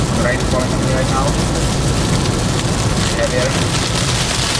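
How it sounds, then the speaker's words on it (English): Steady Florida summer storm rain hissing over a broad rumbling background, dense and continuous, with faint traces of a voice underneath. "Rain falling on me right now."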